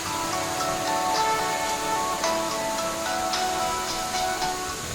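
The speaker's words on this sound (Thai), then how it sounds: "เสียงซูซ่าซูซ่าของน้ำตก" Steady rushing water from a waterfall beside a restaurant in Prachuap Khiri Khan, a dense, even roar that holds throughout with faint tonal sounds above it.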